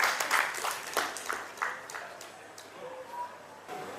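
Audience applause at a Marwari literature event on Guru Purnima: a sustained wash of clapping from a crowd that is strongest at the start and gradually thins, with faint voices underneath.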